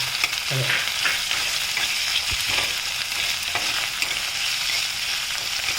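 Onion sizzles in hot oil for a village-style kattu saaru, giving a steady, close frying hiss with a few spoon scrapes and stirring knocks, no voices.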